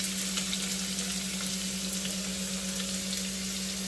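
Onion fries in oil with mustard seeds, giving a steady, dense sizzle that holds evenly throughout at moderate loudness, with no voices.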